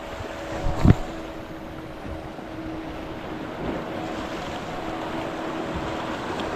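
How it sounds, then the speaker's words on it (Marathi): A small fishing boat out on the open sea, with one sharp slam of the hull on a wave early on, then a steady wash of wind and water. "बोट आपटते बघा कसली उडते बघा किती आहे धनाधन उडते"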